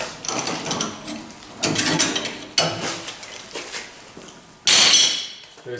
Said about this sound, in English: we're going to keep backing these seat clamps off here and steal our leaf springs out